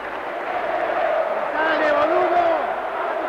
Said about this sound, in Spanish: El aplauso mutuo.